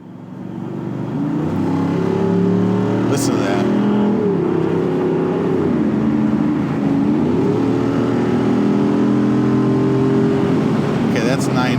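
A vintage WWII-era Jeep accelerates hard, its engine note climbing through rising revs in a strong, close, sustained roar, with a brief voice heard as it starts.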